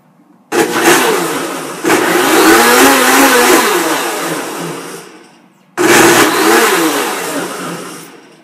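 A blender run on pulse while cleaning, its jar holding water and a few drops of dishwashing liquid, whirs in two loud bursts: a long one with a brief surge, a short pause, then a second burst that slowly fades.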